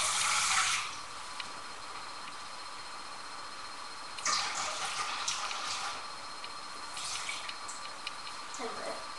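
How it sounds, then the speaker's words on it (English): Water runs from a kitchen sink tap as a steady broadband rush, with louder surging bursts at the start, near the middle and toward the end. "get some water from the sink"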